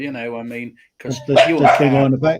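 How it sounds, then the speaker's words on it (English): A dog barks and yips during a conversation, with fireworks being let off nearby; the sharp barks mix with overlapping voices close to the microphone. "I apologise for the barking."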